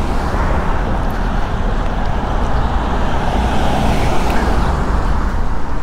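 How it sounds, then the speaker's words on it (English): Dense road traffic fills the scene with a constant loud roadway rumble and hiss of passing cars and heavier vehicles, steady from start to finish with no clear speech on top. "We got interference from the traffic zone."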